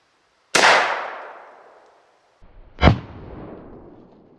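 Two sharp, loud blasts from a Winchester SXP Field Compact shotgun firing Federal field load, 2¾-inch number 6 shot, through a modified choke, each shot followed by a long fading echo outdoors.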